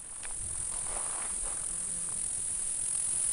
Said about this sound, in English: I think that's the sound of cicadas.